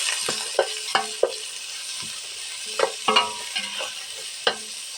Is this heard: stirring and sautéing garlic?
yes